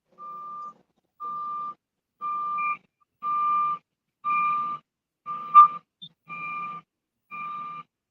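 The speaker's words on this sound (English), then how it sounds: "I just heard a beep." A series of eight evenly spaced electronic beeps, steady and mid-pitched, with short gaps between them; one louder click sounds near the end.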